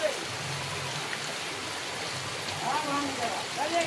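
Heavy rain and floodwater flowing around a village house make a steady, dense wash of noise, with a faint voice briefly audible beneath it.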